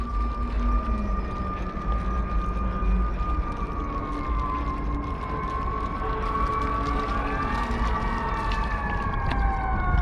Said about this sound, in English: there's gotta be police sirens as I'm, or fire sirens